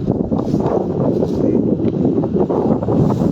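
Wind buffets the microphone outdoors during traditional net fishing, producing a close, uneven gusty rumble with small fluctuations, with no clear voices.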